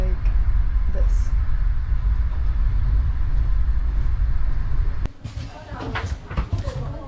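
Steady low rumble inside a passenger train cabin on arrival in Lviv, Ukraine, loud and continuous for about five seconds before dropping off as the train slows, followed by softer clatter and movement.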